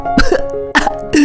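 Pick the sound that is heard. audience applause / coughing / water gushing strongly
coughing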